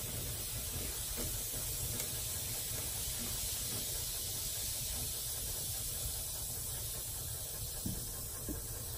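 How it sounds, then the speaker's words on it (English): Water softener cleaner solution fizzing and foaming in cold water, a steady loud hiss that carries on without a break. "It's starting to fizz and foam."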